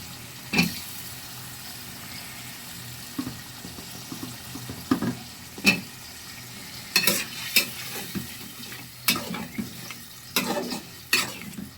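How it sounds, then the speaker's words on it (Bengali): New potatoes sautéing in a pan, with intermittent scraping stirs and clinks over a low steady sizzle, the strokes coming in irregular bursts close up. "আলুগুলো আগে কষিয়ে নেব"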